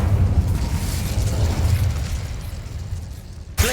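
A Hogwarts Legacy Incendio fire spell roars with a loud, sustained whooshing burst, a continuous fiery rush that holds steady before a sharp crackling hit at the very end.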